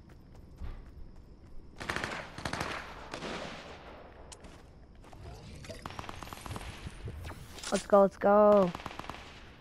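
Scattered bursts of gunfire in the video game Fortnite, including shotgun blasts, come in short separated volleys at moderate loudness while a player talks over them.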